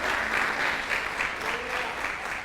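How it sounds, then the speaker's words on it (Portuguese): A church congregation claps in steady, continuous applause that fills the whole stretch, dense and fairly loud, with no voices standing out. "Tem alguém para dar um amém, um aplauso a Jesus aqui ou não?"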